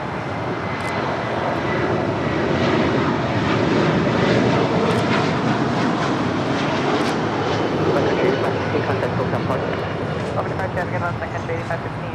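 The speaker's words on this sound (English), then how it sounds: "That is Sun Country Airlines 8515 departing to Cabo San Lucas on a 737-700" A Sun Country Airlines Boeing 737-700 departing Los Angeles International Airport, its jet engines giving a sustained, full roar that swells and then slowly eases, with someone talking over it.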